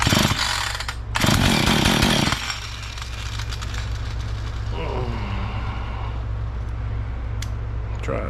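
A Husqvarna chainsaw runs after a carburetor low-idle adjustment, a loud high rev burst near the start before it drops to a steady rough idle, with brief faint talk partway through.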